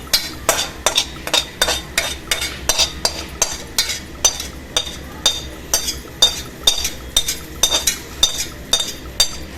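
A spoon stirs fried shallots into a prawn curry with jackfruit seeds and drumsticks, making steady, evenly spaced metallic clinks against the pot, about two per second, close and alone.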